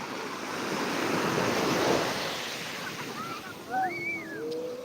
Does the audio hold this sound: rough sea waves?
yes